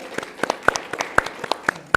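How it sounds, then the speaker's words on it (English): A few people clapping after a neighborhood contest, sparse sharp claps in an uneven rhythm, close and distinct rather than a crowd. "Give yourself a round of applause for sure"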